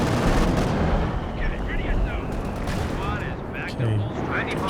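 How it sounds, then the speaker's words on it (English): A commander artillery strike lands in Company of Heroes 2, with dense, continuous booms and gunfire-like crackle filling the scene. A voice talks over the barrage throughout. "drops down some artillery from the commander"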